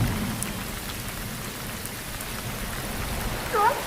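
Steady rain falling at Canon Beach, Oregon, during a yellowfin tuna fishing outing: a dense, even hiss of drops pattering on surfaces, swelling slightly at the end, with no voices.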